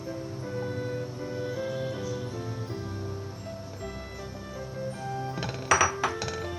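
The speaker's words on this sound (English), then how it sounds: "Now here I've heated up my pan. First is going to go in our coconut." Fresh coconut dropped into a heated pan for Christmas neuris, a few soft clinks and rustles near the end over steady background music.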